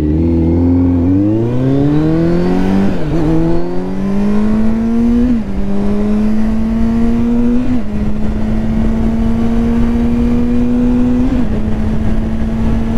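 A vehicle accelerates hard from a standstill, its loud close engine note climbing steadily in pitch through several gear changes, each shift marked by a brief dip before the pitch rises again, with no speech.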